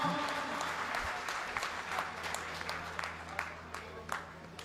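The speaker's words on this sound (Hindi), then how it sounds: "जोरदार तालियों की गड़गड़ाहट से भाई साहब से आपसे रूबरू हो" Loud applause from the crowd at a party workers' meeting in Safidon, a dense steady wash of many hands with a voice on the public address over it.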